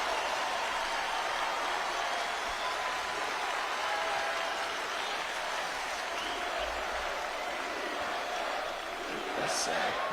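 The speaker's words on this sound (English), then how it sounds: "clap it up. Clap it up." Rally crowd applause at a Donald Trump campaign event, a continuous, fairly distant wash of clapping and crowd noise holding steady throughout, with a brief brighter burst near the end.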